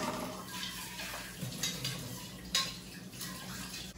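A milk pan being washed in a kitchen sink, with soft clinks and scrapes of cookware and faint running water, close and fairly quiet, with a couple of sharper knocks against the basin.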